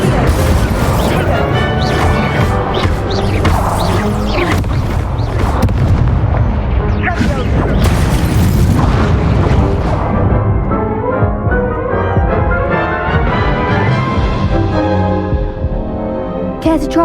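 Fire spell cast in the Hogwarts Legacy video game, loud crackling blasts and booming bursts packed densely through the first half, then fading into a tonal game score with no talk.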